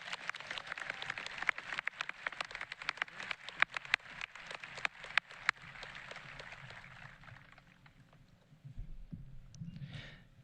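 An audience applauds for foreign exchange students at a 2023 high school graduation ceremony, steady crowd clapping with scattered sharper claps that thin out and fade near the end.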